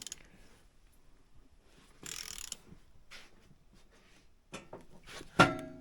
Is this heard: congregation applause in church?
no